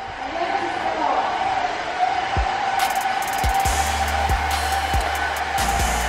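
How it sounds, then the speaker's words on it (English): A hair dryer blows steadily as someone's hair is blown out beside a makeup station in a luxury home, a continuous whooshing roar that runs throughout under clattering and background talk. "Clojo is over here, blowing out some hair besides my makeup station"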